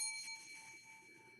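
A game show host rings a small bell once, a bright metallic ding with a ringing tone that fades slowly over about a second, heard alone in a quiet room.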